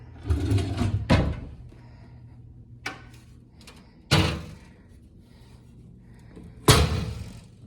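A drawer in a house being opened and closed, heard as a few sharp wooden thuds and slides spaced several seconds apart, fairly close and loud in an otherwise quiet room.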